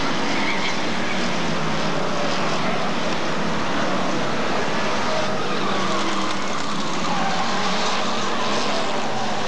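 Hotstox race cars circle an oval at Skegness, engines droning steadily amid broad roadway noise and faint tire scrubbing, with a commentator's voice faintly mixed in.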